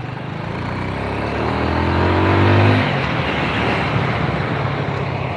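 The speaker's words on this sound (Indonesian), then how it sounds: "Oh lah, rantai gear ini yang bunyi." A Yamaha Jupiter Z motorcycle runs with its drive chain and gear rattling, a rough mechanical clatter over the engine that swells to a peak midway, then settles to a steady idle-like drone.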